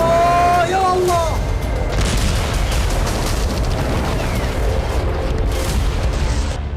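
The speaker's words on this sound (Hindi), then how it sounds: "उड़ता हुआ ये रॉकेट अचानक फट जाता है।" A rocket explodes in the sky near a hospital in Gaza, a loud sustained booming roar with crackling bursts, while voices cry out over the blast.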